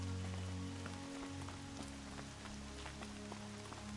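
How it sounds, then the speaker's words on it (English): Rain falling across the open world of the video game Horizon Zero Dawn, a steady soft patter of drops on surfaces under low droning ambience, with no talk. "Rain's not so bad."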